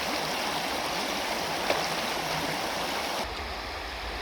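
River in Scotland with no bridge at the crossing, a loud, steady rush of flowing water close by, continuous and without voices.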